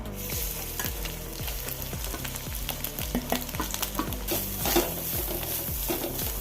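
Grated coconut frying in a tablespoon of oil in a kadai for Kerala roasted-coconut chicken curry, crackling and sizzling steadily while a spoon stirs and scrapes against the pan in rhythmic strokes, close and fairly loud, no talk.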